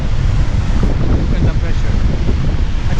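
At Niagara Falls, falling water gives a loud, constant roar close by, with buffeting wind against the microphone and a voice talking beneath the rumble.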